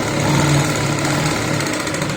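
A sewing machine running back over a stitched neckline, giving a short, steady mechanical whir with a rapid, even needle rhythm, close and fairly loud with no voices.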